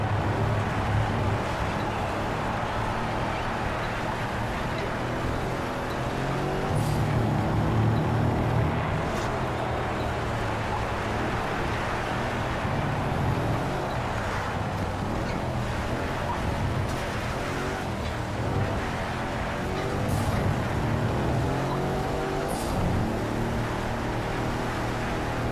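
A Mercedes-AMG race car in Project CARS 3 at a Catalan circuit, its engine droning steadily as it takes a run of corners, with smooth rises and falls in pitch and a constant wash of road and wind noise.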